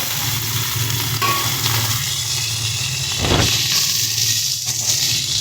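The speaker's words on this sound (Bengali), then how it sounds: "আলুটাও কাঁচা কলার সাথে ভালো করে ভেজে নেব" Potato pieces and green banana fry in a pan with a loud, steady sizzle and hiss, broken by a brief scraping stir near the middle.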